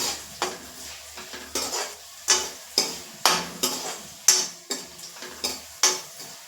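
Rhythmic stirring and scraping in a pan over a steady sizzle of green chillies and turmeric stir-frying, with regular spoon strikes roughly every half second, close up.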